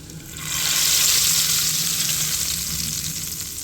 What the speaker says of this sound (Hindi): चलिए जी तड़का लगाते हैं